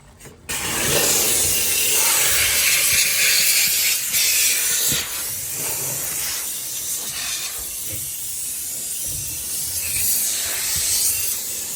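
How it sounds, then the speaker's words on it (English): A steam cleaner hisses loudly and steadily into the cracks and crevices of a 1966 Chevy Impala's interior, a dense close-up spray that swells and eases in bursts as the nozzle moves. "we're just going to jump into the steamer"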